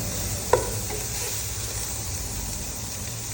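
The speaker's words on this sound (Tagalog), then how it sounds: "Let's saute our luya or ginger." Ginger sautéing in a pan with onions for chicken sinigang, a steady soft sizzle throughout with a single clack of a utensil near the start.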